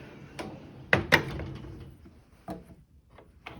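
A metal toolbox drawer slides open with a scraping rattle and a couple of sharp clunks, followed by scattered lighter clicks and taps.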